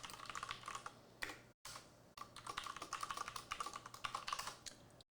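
Rapid keystrokes on a computer keyboard as a terminal command is entered on a Linux system, a dense, steady clatter of keys with two brief pauses, close and alone without speech.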